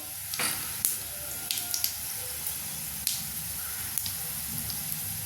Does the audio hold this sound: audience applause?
no